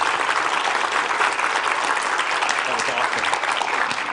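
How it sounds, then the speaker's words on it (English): An audience at a young scientist competition applauds, with dense, steady clapping that continues evenly from start to finish. "Another round of applause."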